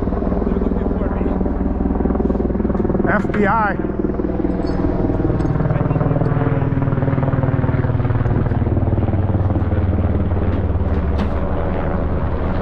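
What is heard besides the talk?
military helicopter flying overhead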